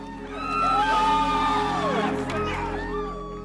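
A crowd cheers and whoops at the OJ Simpson verdict, a sustained roar of many voices with shouts and yells rising over it, loud and continuous throughout.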